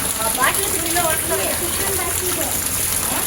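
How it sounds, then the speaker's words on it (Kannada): Steady rain falls outdoors around a school, a continuous hiss of drops with a voice talking over it. "ಎಷ್ಟು ಮಳೆ ಇದೆ ಅಂತ ನಿಮಗೆ ತೋರಿಸ್ತೀನಿ"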